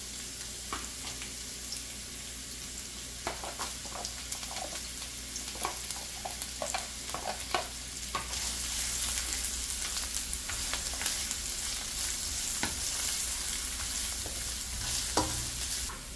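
Carrots frying in olive oil with chili sauce in a pan, a steady sizzle throughout with scattered spatula clicks and scrapes, growing slightly louder partway through, no speech.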